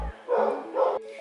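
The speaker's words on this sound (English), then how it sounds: "if you hear this dog barking" A neighbor's dog barks twice in quick succession, muffled and moderately loud, as if from next door, with a faint short voice sound at the very start.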